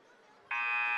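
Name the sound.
buzzer ending the wrestling period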